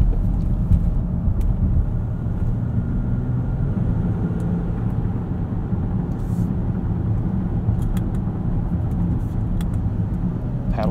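Inside a 2018 Land Rover Discovery HSE Luxury td6 diesel on the move, a steady low engine drone blends with road rumble and wind, continuous and fairly loud, with faint talking beneath.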